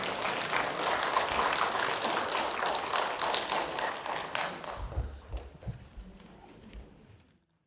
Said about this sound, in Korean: 박수도 나올만 한데